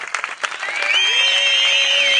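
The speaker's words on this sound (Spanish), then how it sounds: "Podéis empezar a silbar." Street theatre audience at an outdoor cabaret in a park bursts into applause with cheering, then a long, loud whistle rises and holds over the clapping crowd.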